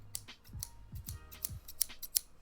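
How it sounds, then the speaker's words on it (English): Sharp scissors snip through soft felt for a crochet amigurumi project, several crisp, close cuts in quick succession in a quiet room. "I love the sound of these scissors."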